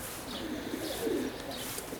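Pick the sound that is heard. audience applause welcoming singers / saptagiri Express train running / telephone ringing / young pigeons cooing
young pigeons cooing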